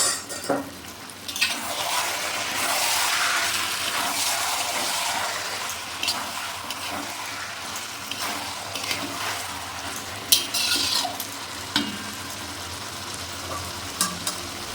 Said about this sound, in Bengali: 2 মিনিট পর ঢাকনাটা খুলে নিয়ে চিকেনটা আমি নেড়ে দিলাম